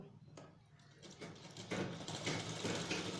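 Sewing machine stitching the shoulder strap of a tie-strap frock, starting quietly, then running in short forward-and-back bursts of rapid mechanical chatter that grow louder toward the end, close by.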